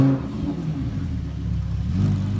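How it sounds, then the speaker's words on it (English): A car engine rumbles at a steady idle after startup at a car meet, its low mid-range drone swelling slightly toward the end with no clear sharp rev peak. "he revved it on startup"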